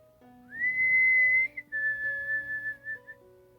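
A lone human whistle rings out at a front door in a horror tale, two long clear sustained notes, the first rising then held, the second slightly lower, close and alone in quiet.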